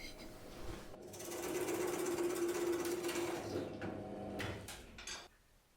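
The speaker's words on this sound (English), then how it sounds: "I've got a bit of scrap wood and a plug cutter, so I can get them drilled out" A plug cutter in a drill bores wood plugs from scrap wood, a close, steady whirring drone that runs for about four seconds before stopping with a few knocks.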